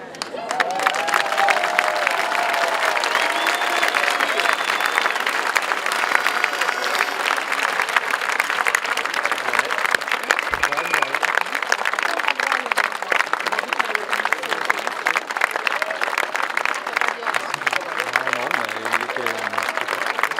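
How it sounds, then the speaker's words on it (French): A large audience at a public speaking event in Nîmes applauds steadily for about twenty seconds, a dense wash of hand claps that continues without a break while someone speaks over it. "je vous propose de les applaudir"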